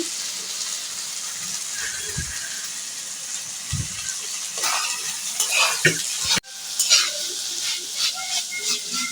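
Pumpkin stems frying in a pan with leaves give a loud, continuous sizzle, with utensil scrapes and clatters growing busier toward the end, close and without talk.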